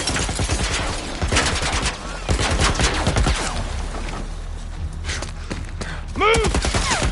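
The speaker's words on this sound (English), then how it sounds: "Some kind of military turret." A military turret fires in The Last of Us, rapid bursts of gunfire in quick clusters, loud and close, with gaps between volleys and voices shouting over the shooting.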